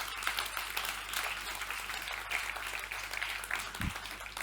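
Steady applause from an audience at a French stamp-election awards ceremony, a dense wash of clapping that runs evenly throughout at moderate loudness with no voices over it.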